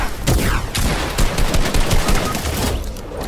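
Rapid, loud gunfire in a video game, a dense fusillade of overlapping shots and bursts running continuously throughout with no talk.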